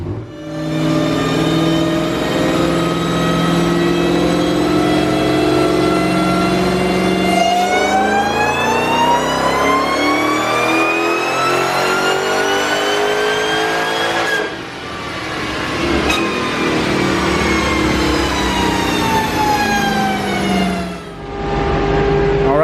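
A 900+ rwhp Dodge Demon running E85 roars through a dyno pull, its engine note climbing steadily in long loud sweeps through the gears with brief drops between, close and unbroken by speech.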